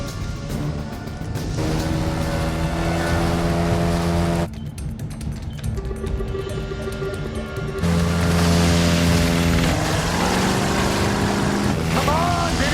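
Patrol boat engines run at sea off Australia during a naval chase, a steady droning hum with shifting tonal layers that holds throughout, briefly changing character midway, with occasional voices faintly underneath.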